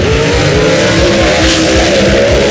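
Loud drag racing cars, including a 1966 Chevy II gasser, launching down the strip at a gasser race, engines revving hard with a rising roar and rough rasping pulses, close and continuous.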